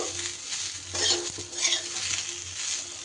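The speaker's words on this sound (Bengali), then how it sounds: "ধনে পাতাটা দিয়েও একটু মিশিয়ে নেব" Fried potato chatpata with chopped coriander being stirred in a pan, with steady oil sizzle throughout and bursts of scraping and clinking from the spatula against the pan, close and alone without talk.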